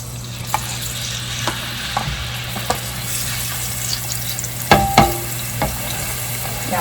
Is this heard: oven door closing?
no